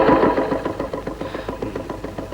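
A motorbike engine idling close by with a steady, knocking rhythm that settles slightly quieter as it runs.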